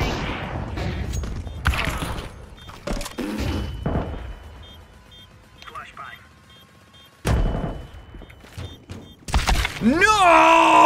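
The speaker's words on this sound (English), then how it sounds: "Throwing flashbang." Counter-Strike match with a flashbang grenade thrown amid sharp gunfire bursts, loud impacts and ringing tones, players talking excitedly over the chaotic game sounds.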